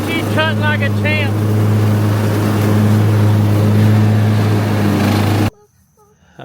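A Troy-Bilt Bronco riding mower cutting grass, its engine droning steadily and loudly up close, with short bursts of voice at the start before the sound cuts off abruptly.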